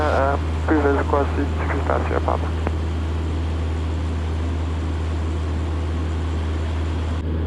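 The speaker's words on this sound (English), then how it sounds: "this particular Husky is an A1-C, which is a 200 horsepower variant" A 2017 Aviat Husky A1-C, a 200-horsepower propeller plane, cruising over the harbor at Long Beach. The steady, loud cabin drone of the engine continues throughout, with a voice speaking briefly at the start.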